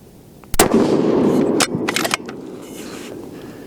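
A single loud 7mm PRC rifle shot fired with handloaded ammunition at a range, a sharp blast followed by a lingering rumbling echo and a few fainter clatters.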